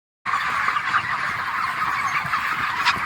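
Broiler chickens fill a poultry shed with loud, continuous overlapping clucking and chatter from many birds, starting abruptly after a brief silence.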